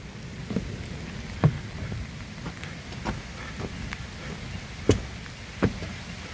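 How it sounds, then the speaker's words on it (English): Rain falls steadily on a suspension bridge over the Peddler River, a soft continuous patter broken by a few sharper drops and knocks at irregular intervals, fairly faint with no talking. "it's raining pretty good"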